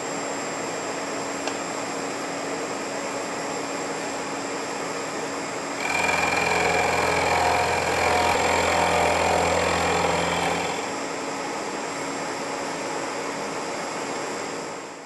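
A milling machine takes a facing pass across a metal block to clean off bandsaw marks, the cut rising as a louder, steady grinding hum over the running machine for several seconds before easing back to its idle drone.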